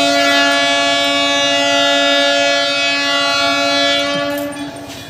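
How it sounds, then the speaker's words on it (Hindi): A train pulls into a station sounding a long, steady horn blast that holds for about four seconds before tapering off, loud and close, with no talking over it. "वहाँ ट्रेन आ गया"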